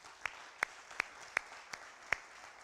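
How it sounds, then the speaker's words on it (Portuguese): During a church family service, six distinct hand claps sound one after another at a slow, even rhythm, fairly quiet, with little else around them. "Vamos dar uma salva de palmas a Ele por isso"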